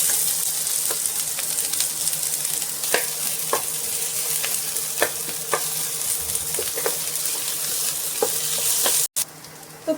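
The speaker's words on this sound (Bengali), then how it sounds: "তো পেঁয়াজটা ভাজা হতে থাক," Chopped onion frying in hot oil with a bay leaf and a dried red chilli, a continuous close sizzle broken by scattered stirring clinks and scrapes, no voices.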